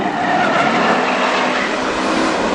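Pack of WISSOTA street stock race cars roaring past at Granite City Speedway, a loud, dense engine roar with tire noise sustained steadily and up close.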